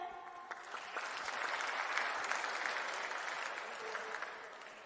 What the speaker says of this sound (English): Please give applause everyone.